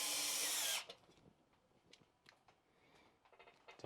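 A short, loud whir of a power drill, then it stops, leaving quiet clicks and light handling noises.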